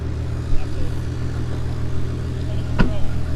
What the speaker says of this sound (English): I hope this Golf behind me is not too loud.